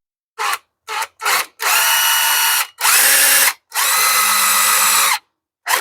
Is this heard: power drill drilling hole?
yes